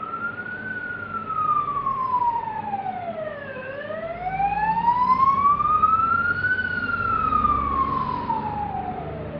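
An ambulance siren wails in long rising and falling sweeps, loud and steady over low traffic rumble as it passes close by.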